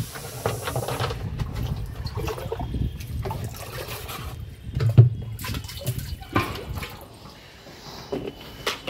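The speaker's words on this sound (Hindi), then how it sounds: "तो चलो भाई, पानी वगैरह भरते हैं इसमें से 2 बाल्टी" Water running into two buckets for a bath at home, a steady trickling and splashing with irregular knocks and clatters, fairly close and moderately loud, no talking.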